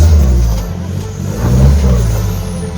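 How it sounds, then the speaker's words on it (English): A 4x4 engine idles and rumbles with a deep, throaty free-flow exhaust note, close by and fairly loud. "Oh, nice exhaust. He did a free flow on that."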